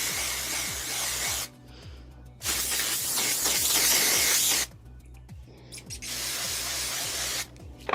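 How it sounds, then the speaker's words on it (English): Several bursts of hairspray spritzing, each a steady hiss lasting one to two seconds, separated by pauses with faint rustling and handling sounds. "spritz with a little hairspray"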